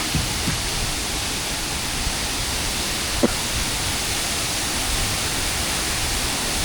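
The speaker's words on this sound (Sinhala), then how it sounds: "අර හැම ගල් පර්වතයකින්ම වතුර වැටෙනවා පල්ලෙහාට." Adawala waterfall at Padiyapalalla pours water down over rock faces in a steady, dense rushing roar that stays even and fairly close throughout, with no voices over it.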